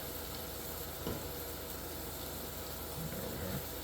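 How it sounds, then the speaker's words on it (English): Passata tomato sauce is stirred in a hot pan, a dense continuous sizzle with soft scraping from the spoon, close and steady with no voices. "So we'll just give this a bit of a stir."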